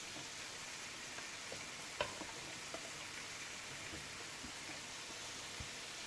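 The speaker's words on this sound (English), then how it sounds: "So I'm going to put the onions in." Chopped onions fry in a pan for a shepherd's pie with mince beef, a constant soft hiss and sizzle with a single sharp click and a few faint ticks, no voices.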